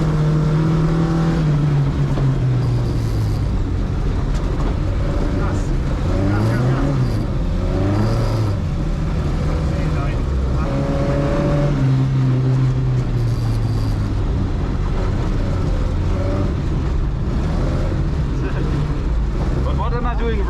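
A car engine revs and falls repeatedly while the driver practises a pendulum swing (Scandinavian flick), loud and close. People talk over it throughout.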